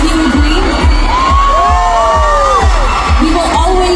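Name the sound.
fan meet crowd yelling and cheering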